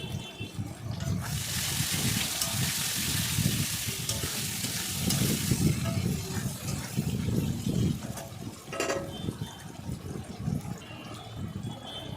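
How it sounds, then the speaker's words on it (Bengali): Raw green banana pieces frying in hot oil with salt and turmeric: a close, steady sizzle and crackle of frying with stirring scrapes in the pan, continuous throughout and fading slightly toward the end, with no talking. "আমি কিন্তু তেলের ভেতরে এবার কাঁচা কলাগুলোকে দিয়ে দিয়েছি, আর নুন হলুদ দিয়ে এগুলোকে একটু ভাজা ভাজা করে নেব"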